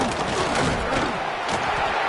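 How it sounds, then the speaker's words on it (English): Stadium crowd at a football game, a dense, steady roar of thousands of voices cheering and shouting, loud and continuous throughout with no distinct individual sounds standing out. "Listen to the crowd energy here in the early going"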